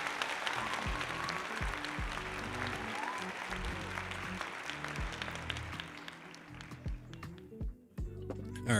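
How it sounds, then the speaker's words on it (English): Light applause sounds on a crypto trading livestream: a steady wash of clapping with a repeating low thumping beneath, thinning near the end. "Light applause for them."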